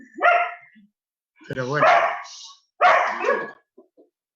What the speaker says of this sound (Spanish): Yo tengo aquí la perra ladrando